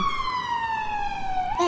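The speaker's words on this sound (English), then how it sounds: "Oh, the ambulance is here." A loud siren wail held on a single steady tone that slowly slides downward, close by, then shifts pitch abruptly at the end.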